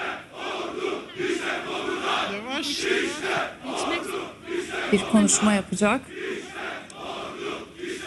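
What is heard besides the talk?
crowd chanting at a funeral ceremony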